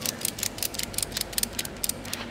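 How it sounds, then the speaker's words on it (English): Rapid, repeated clicking of a ratchet mechanism being worked during strongman training gear setup, crisp and close with an even rhythm of sharp clicks and no talking. "That seems to be ratcheting."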